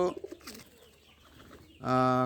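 Pigeons in a kept loft coo, starting with a few soft low calls, then a quiet stretch, then a loud, sustained throaty coo near the end.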